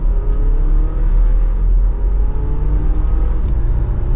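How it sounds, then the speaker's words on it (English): A 2024 Audi Q5 small luxury SUV in dynamic mode, manually shifted, pulling hard from second gear, gives a steady loud engine rumble and rising drone that holds throughout with no talk. "with the Audi in dynamic mode and the manual setting from second gear, here we go"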